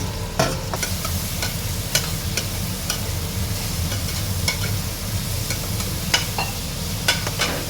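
Chopped onions and chilies frying in a pan while being stirred, with a continuous close sizzle broken by repeated scraping strokes of the spoon.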